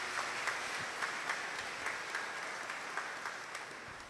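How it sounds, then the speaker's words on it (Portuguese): A church congregation claps through a Sunday Mass homily on All Souls' Day, a sustained round of applause at moderate distance with some sharper individual claps standing out. "Dá uma salva de palmas para Jesus."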